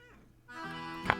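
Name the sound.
cat meowing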